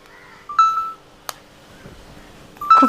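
An Apple AirPods charging case gives a short, bright electronic chime, heard twice a couple of seconds apart, close and clear against a quiet room.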